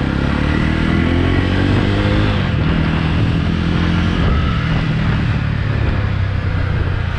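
A 2021 Jawa Forty Two 2.1 motorcycle with a radiator, ridden on the road, gives a loud, steady engine drone up close, its pitch climbing as it revs, then easing and settling.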